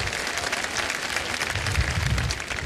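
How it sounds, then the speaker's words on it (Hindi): Steady applause from a television quiz show audience for three contestants, a dense wash of clapping filling the studio without any speech. "एक बार फिर तालियां बज जाएं इन तीनों के लिए।"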